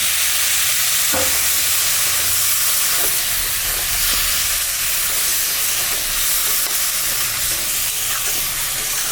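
Ginger, cumin, dried and green chillies and garlic paste frying in a pan give a steady, close sizzle with occasional stirring scrapes, no voices.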